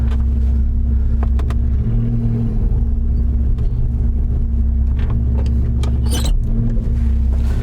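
Datsun 280Z with an L28 inline-six and straight pipe exhaust on a road drive, a loud steady low engine drone heard from inside the car, with a few brief knocks and clatters over the rumble.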